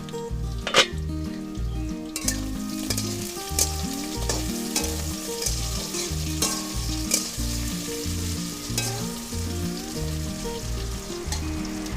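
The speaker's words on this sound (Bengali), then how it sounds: "তাহলে এবার দেখছি কেমন হলো ভাজা" Bata fish with lati sizzling in an oiled pan as a spatula stirs and scrapes in a steady rhythm, with occasional sharp knocks against the pan over a constant close frying hiss.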